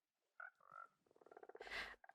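Frogs croak in Minecraft beside a pond, a run of short, close, rhythmic croaks and chirps with a brief, louder burst near the end, no talking.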